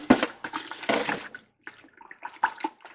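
Water poured into a pot holding leftover sugar to rinse it out while mixing 2:1 sugar syrup for honeybees, heard as close splashing and gurgling bursts with brief pauses, no talking.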